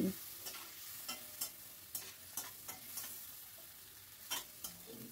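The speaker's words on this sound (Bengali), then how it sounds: "এবার হাই ফ্লেমে একটু নাড়াচাড়া করে নিচ্ছি।" Steamed potatoes sizzle in oil over a high flame while a spatula stirs them, tapping and scraping the pan in a steady rhythm of short knocks above a soft, continuous frying hiss.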